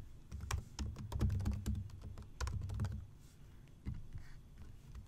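Quick bursts of clicky keystrokes on a computer keyboard as an email address is entered, close and clear, with short pauses between runs and no talking.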